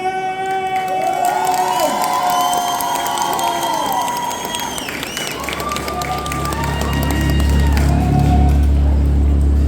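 Concert crowd at a K-pop show at the Geek Life convention in Le Mans cheering and applauding, with shouts and whistles over a dense roar that swells toward the end as bass-heavy music starts.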